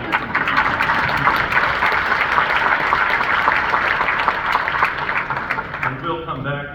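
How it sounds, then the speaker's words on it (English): A crowd at an outdoor Knox 250 commemoration in Great Barrington, Massachusetts claps in loud, dense, sustained applause that fades out near the end as a voice begins speaking. "Thank you for the applause."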